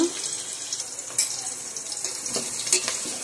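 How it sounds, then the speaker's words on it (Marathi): Onion sautéing in a pan with cumin seeds, giving a continuous hiss of frying and a few scraping stir strokes, close up with no talk. "आता याच्यामध्ये टाकूयात कांदा. कांदा परतून घेऊत आपण मस्त."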